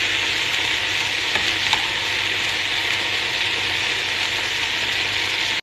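Orbeez gel beads cook in a pan with a constant sizzling hiss and a few faint, scattered pops, steady and close throughout.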